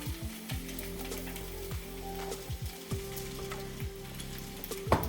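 Spinach sizzling in a hot frying pan: a steady, gentle crackling frying hiss with scattered pops and light utensil scrapes throughout, close and fairly quiet.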